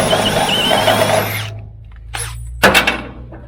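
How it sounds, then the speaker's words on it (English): A power drill bores holes into the metal of a 1966 Dodge crew cab truck, a loud whining run that stops, followed by a few short bursts. "drilling holes in my truck again"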